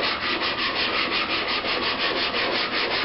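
Glass telescope mirror being ground by hand, with heavy thumb pressure on one side to correct wedge; a steady, continuous gritty rubbing with a regular stroke rhythm, loud and close, no voices.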